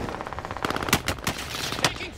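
Rapid automatic gunfire rattles in a shooter video game, a steady stream of shots broken by several louder, punchier bangs nearby, with speech faintly underneath.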